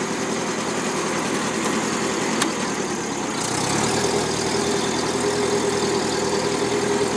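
A Ferguson TE20 tractor engine runs steadily nearby with a low, vibrating rumble and a brief rise in revs partway through, continuing at an even idle with no talking.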